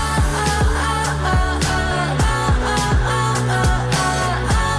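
Guitars in a K-pop song play over a steady beat with deep repeated drum hits and layered melodic parts, loud and continuous.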